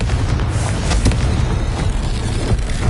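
The Confringo blasting curse in Hogwarts Legacy, a loud sustained explosive rumble with crackling bursts and popping debris lasting a few seconds.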